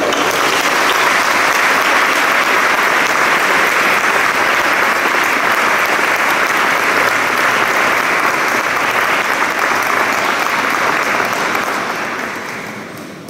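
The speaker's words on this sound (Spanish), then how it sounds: "creo que lo podemos recibir con un fuerte aplauso aquí también a la coral" Audience applause at a Christmas concert in Ferrol, a sustained, dense clapping from a large crowd that holds steady for several seconds before tapering off at the end.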